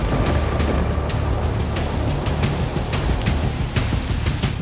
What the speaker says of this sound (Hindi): लाहौर में मूसलाधार बारिश से जल थल एक